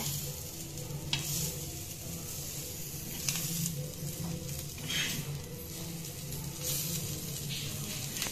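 Spiced mackerel (bangude) fries in a hot pan with a continuous, close sizzle and crackle, and a few brief scraping stirs and spatters break through the steady hiss.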